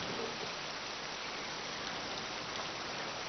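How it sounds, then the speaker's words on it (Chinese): Steady rain falling outside, a dense, even hiss with no breaks, fairly soft and with no voices. "外面下雨呢"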